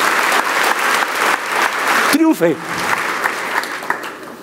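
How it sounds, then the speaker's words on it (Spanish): A church congregation applauds in a dense, steady roar that continues throughout, while a voice briefly speaks over it midway. "Te das un aplauso a Dios por eso."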